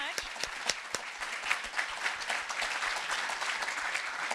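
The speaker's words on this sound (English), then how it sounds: "So one round of applause," Steady audience applause at a Juneteenth keynote lecture at GVSU, dense clapping from a large crowd sustained at moderate volume throughout.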